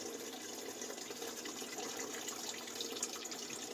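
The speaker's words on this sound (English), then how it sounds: "I've just got some tap water, hot tap water." Hot tap water runs through an old vegetable strainer, rinsing grains on a home brew day, a quiet, steady splashing hiss with no talk.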